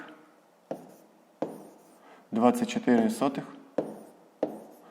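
A pen writes by hand on paper while a math exercise is solved, with short sharp strokes at a steady pace. A teacher's voice speaks briefly in the middle.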